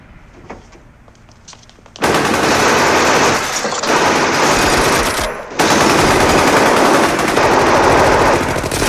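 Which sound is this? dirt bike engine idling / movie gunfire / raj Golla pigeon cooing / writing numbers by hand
movie gunfire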